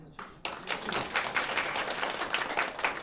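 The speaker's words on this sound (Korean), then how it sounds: "큰 박수" An audience at an open seminar breaks into brisk applause for a presenter, with dense clapping that starts suddenly and holds steady for a few seconds.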